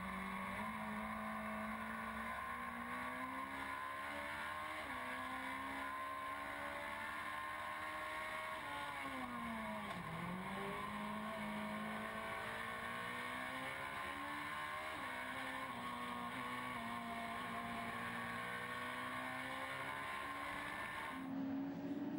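Mitjet race cars on a circuit during an overtaking battle: a steady, moderately distant engine drone with sliding revs as the cars shift and dip through a corner, sustained without pause.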